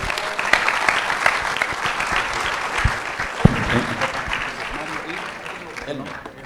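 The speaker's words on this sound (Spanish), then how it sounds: "Un aplauso para todos los forestales." Audience at a forestry expo opening talk applauding, a sustained dense round of clapping from a crowd in a hall, fading slightly toward the end, with some talk mixed in.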